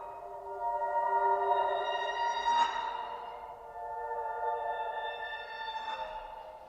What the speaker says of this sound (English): I believe I did the same thing with this sine wave right here, a little lead